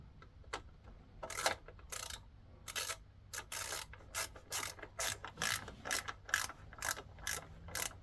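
A ratchet tightens the fender mount bolts on a Tuareg 660 motorcycle during a DIY high fender installation, giving close, crisp bursts of rapid clicking in short repeated strokes with no talking.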